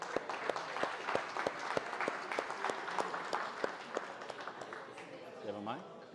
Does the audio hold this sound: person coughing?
no